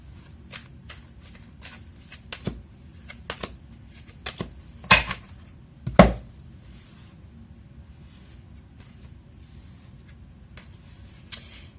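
Tarot cards being shuffled: soft, close riffling and brushing in short bursts, with a few sharper snaps near the middle, over a quiet background with no talking.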